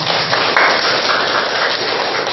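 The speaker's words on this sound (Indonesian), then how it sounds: "Tepuk tangan buat kalian semua." A classroom group of students applauds a presenting student group, a dense, sustained patter of many hands clapping close by and evenly for a couple of seconds.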